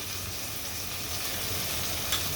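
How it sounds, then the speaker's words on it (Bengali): Koi fish frying in a pan, a dense continuous sizzle with an even, hissing texture throughout and a soft stirring scrape near the end. "এভাবে নেড়ে চেড়ে ভেজে নিব মাছটা"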